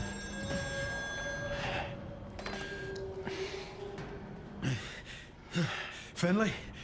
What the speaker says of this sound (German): Geh ans Telefon.